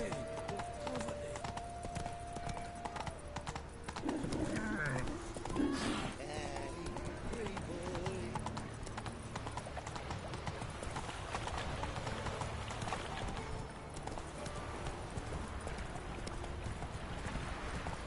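Roach, the horse in The Witcher 3 video game, galloping with a steady rapid clip-clop of hooves and an occasional whinny, while a voice talks over it.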